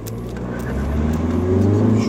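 A diesel car pulls away up a ramp as its clutch engages, with a low engine hum that swells steadily louder over about two seconds while a person talks.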